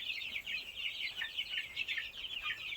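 A flock of three-week-old village chicks (ayam kampung) peeps continuously, a dense overlapping chorus of high chirps held close and fairly loud with no pauses.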